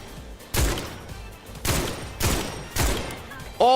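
Shotgun fire in the video game Highguard: four loud, evenly spaced booming blasts, each with a brief decaying tail, close and dominant over faint background game noise.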